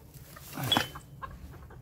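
A hen gives a single short cluck, fairly faint and near, with quiet background in between, while chickens are offered a large piece of bread.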